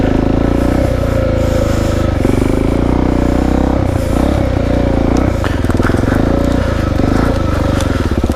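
A Suzuki DRZ dirt bike rides a trail, its engine a loud, continuous rumble rising and falling with throttle, with clattering and scraping from the rough ground and strong wind noise close to the microphone.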